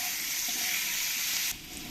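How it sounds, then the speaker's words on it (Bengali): Potatoes with green chillies fry loudly in hot oil, a strong steady hiss that drops off abruptly near the end, with soft stirring underneath. "আলুর মধ্যে কাঁচা লঙ্কাগুলো দিয়েও একটু ভেজে নেবো"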